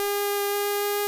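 A Stylophone Gen X-1 synthesizer plays one steady, buzzy sustained note with its -1 extra bass setting, dry and even for about a second with no other sound.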